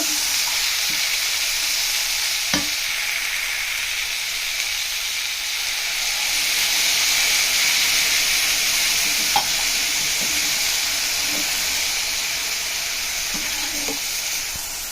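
Broccoli sizzles steadily in a hot pan, with occasional scraping and stirring clicks from a spoon, close and continuous.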